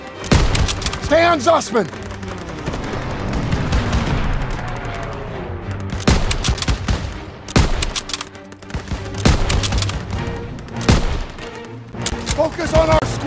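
Dense World War II battlefield gunfire from a video game: rapid rifle and machine-gun bursts crackle in close, loud clusters with booming impacts, while soldiers shout orders over the fighting.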